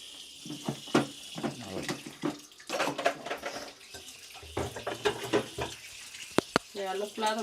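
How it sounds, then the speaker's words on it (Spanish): Dishes are washed under running water in a rural Cuban home, with water splashing and plates and pots clinking against each other close by, while people talk over the sounds. "Vamos a fregar los platos."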